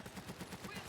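Rapid, steady automatic gunfire from a suppressing weapon in the shooter game Army of Two: The Devil's Cartel, regular rhythmic bursts heard at a moderate, somewhat muffled level.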